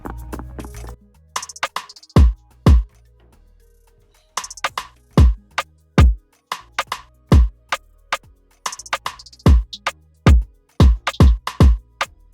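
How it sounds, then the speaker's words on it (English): Repeated bursts of a beat pattern with rapid ticking hi-hat rolls between punchy low drum hits, looping several times with no talking. "So then next I added a hi-hat, which I just wanted some hi-hat rolls in"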